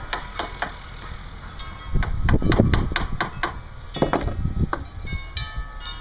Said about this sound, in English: Tighten with the hammer.